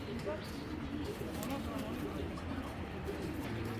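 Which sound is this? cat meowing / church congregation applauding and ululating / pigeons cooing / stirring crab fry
pigeons cooing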